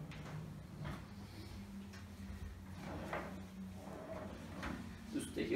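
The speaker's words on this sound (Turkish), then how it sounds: "Yine çekmecelerimiz her zamanki gibi frenli." Soft-close drawers in a modern black-and-white acrylic kitchen slide open and shut, giving a series of faint, muffled thuds and soft glides spaced a second or so apart in a quiet room.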